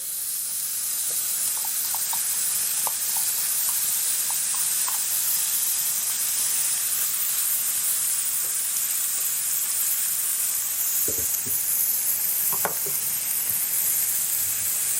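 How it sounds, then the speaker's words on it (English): Chicken sizzles steadily in a hot pan for home-made ravioli filling, a constant broad hiss with a few faint clinks and thumps of utensils near the end, no voices. "Hearing a nice sizzle there."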